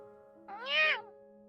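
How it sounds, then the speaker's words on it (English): A single short meow from a kitten in the game Love and Deepspace, rising then falling in pitch, clear and close over a steady electronic background hum. "That's a weird sounding fucking cat there, buddy"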